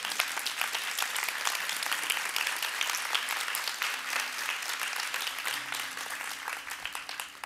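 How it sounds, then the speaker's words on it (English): A church congregation gives sustained, even applause, dense clapping from many hands that carries on for several seconds without a break. "Ladies, I said you are to be applauded."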